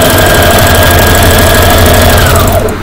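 A Brother LX 3850 sewing machine, just repaired after a rotary hook problem, stitches steadily and loudly with a fast, even mechanical chatter, stopping abruptly near the end.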